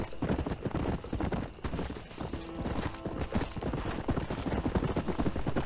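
Horse hooves clip-clop in the Red Dead Redemption video game, a brisk, steady rhythm of close, loud hoofbeats that goes on throughout, with a brief tonal sound in the middle.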